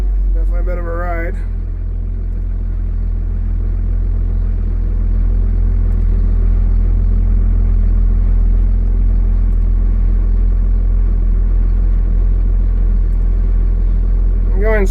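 A Timbco feller buncher's diesel engine drones loud and close in a deep, steady rumble while the machine drives and turns slowly, and a person talks briefly at the start.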